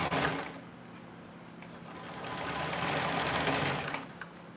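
Sewing machine running steadily through a line of top stitching at an eighth-inch seam allowance, a continuous close mechanical whir that swells slightly toward the end before easing off.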